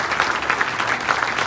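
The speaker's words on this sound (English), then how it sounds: "Give them a round of applause" Audience applause fills the room at an innovation district launch event, a dense, steady patter of many hands clapping at moderate distance without a break.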